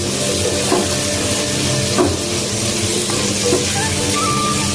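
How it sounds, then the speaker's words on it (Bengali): Potatoes stirred in a frying pan: a continuous oily sizzle with occasional scraping strokes of a spatula against the pan, close and fairly loud, with no talk. "আলুটা দিয়ে একটু নেড়ে নেবো।"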